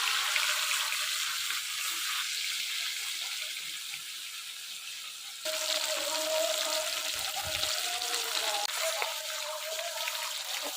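Pieces of katla fish sizzle in hot oil in a home kitchen, a continuous hissing crackle that steps up in intensity midway, with a faint voice briefly underneath.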